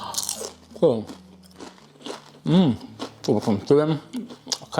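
Crispy chips made from unripe plantain are bitten with a couple of sharp, close crunches breaking through steady talk.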